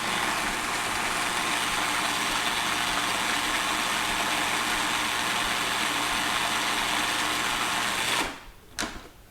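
A food processor blends vegan pesto in one steady, loud whirring run that lasts about eight seconds, then stops abruptly, followed by a brief clatter. No one speaks.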